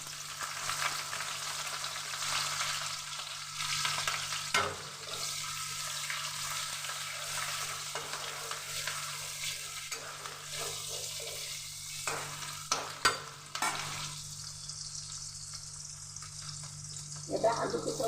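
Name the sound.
onions and green chillies frying in a pan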